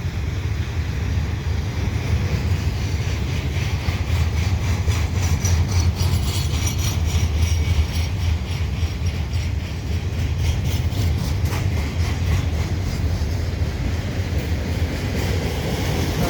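A CN freight train carrying mile-long welded rail on flat cars rumbles past continuously, with a heavy low roar and a steady rhythmic clatter of wheels on rail throughout.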